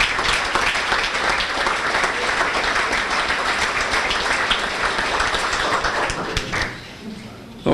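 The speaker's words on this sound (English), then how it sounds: "Let's give a round of applause for the parents." A school sports banquet audience bursts into sustained, dense applause, loud and close throughout, tapering off near the end, with voices mixed into the clapping.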